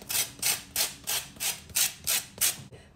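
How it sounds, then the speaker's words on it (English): Lemon zest is grated over chicken drumsticks with a close, rhythmic rasping. About nine even scraping strokes come in quick succession, each a short gritty rub, with no talk over them. "Grate the zest of a lemon over the top."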